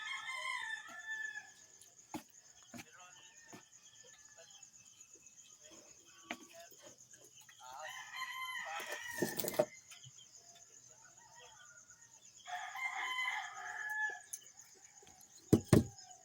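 Roosters crowing at early morning, several drawn-out calls from a few birds at a middling distance, with a high insect drone running throughout and a few short clicks and bumps close by.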